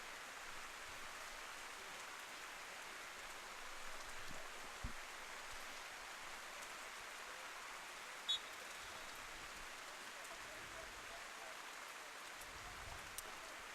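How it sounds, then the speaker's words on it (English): Steady rain pours down at an outdoor boys' high school soccer match, a constant dense hiss filling the whole stretch with a few faint knocks and no talk over it. "I think it's raining as hard as it has all day right now"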